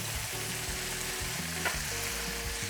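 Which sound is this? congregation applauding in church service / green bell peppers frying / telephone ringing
green bell peppers frying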